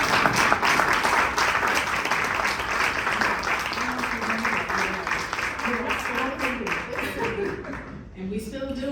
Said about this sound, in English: Can we give Jennifer another round of applause?